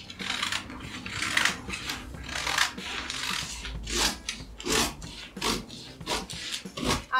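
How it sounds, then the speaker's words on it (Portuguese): Scissors snip through fabric folded on a cutting surface while a wrap skirt is being cut out, giving a close, steady series of rasping cuts with short pauses and no talking. "Aqui a gente vem então com a tesoura."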